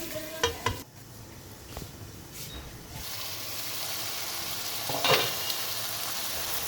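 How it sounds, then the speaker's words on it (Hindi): Chopped tomatoes cook in a covered pan for macaroni, giving a soft, steady sizzle with a few clinks and knocks of the lid or spoon near the start and again around five seconds; no talking. "अब इसको थोड़ी देर ढक के पकाएंगे, टमाटर नरम हो जाए।"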